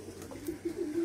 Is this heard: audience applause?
no